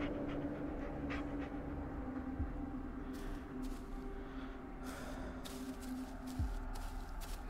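A dog panting in the horror video game Blair Witch, quiet rapid breathy panting over a low ambient drone, with a few soft rustles and faint whimpers.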